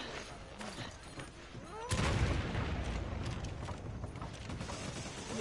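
Rocket launcher firing in Resident Evil 5 Versus multiplayer, a sudden loud blast with a rumbling, noisy tail after quieter game sounds.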